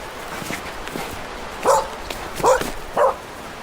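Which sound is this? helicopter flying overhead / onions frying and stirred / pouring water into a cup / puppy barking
puppy barking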